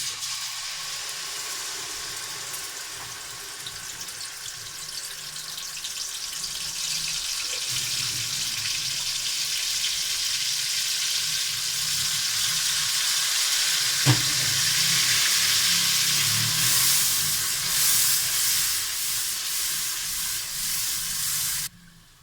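Spice paste with cumin seeds and black peppercorns sizzles and fries steadily in a hot pan for chicken koftas, a continuous crackling hiss with occasional stirring scrapes, loud and close.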